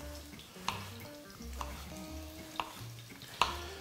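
Garlic frying in a pan for a zucchini cream soup, a steady soft sizzle with a few sharp clinks of utensil against the pan at intervals.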